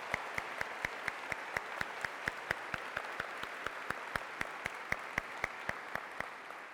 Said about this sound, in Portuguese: vocês merecem uma gloriosa salva de palmas